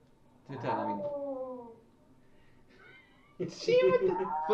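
A person imitates a cat's meow in a home setting, with a couple of drawn-out, pitched meow-like calls separated by a pause, the second louder and closer, alongside nearby talking voices.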